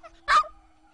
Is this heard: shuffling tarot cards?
no